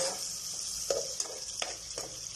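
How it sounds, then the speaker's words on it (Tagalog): Garlic and onion sautéing in butter for a home-cooked chicken and broccoli lunch, a faint steady sizzle with a few soft stirring scrapes and clicks of a utensil against the pan. "nagisa na siya ng bawang, sibuyas sa butter"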